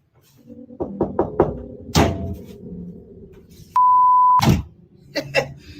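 Four quick knocks on a wall or door come in a rapid run, followed by louder single thumps and a steady electronic beep, heard alone in a quiet room.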